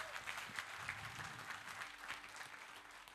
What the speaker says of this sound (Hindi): एक बार जोरदार ताली अपने आप के लिए बजाइए साहब